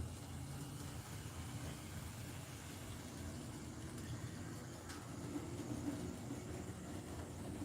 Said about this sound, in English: And yes, my trains do run.